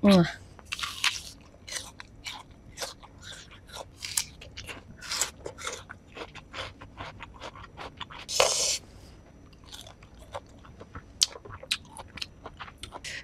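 Young mango rujak with chili is bitten and chewed close to the mic, giving crisp crunches and wet, irregular chewing with a few sharper bites standing out.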